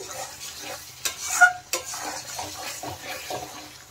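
Masala spices stirred and fried in a pan while cooking a vegetarian cauliflower dish: soft scraping and stirring against the pan, with a couple of sharper utensil knocks near the middle, over a low sizzle.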